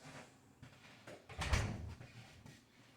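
A door is opened to let a guest in, producing a faint creak and thud with a brief louder rattle near the middle, against a quiet indoor background.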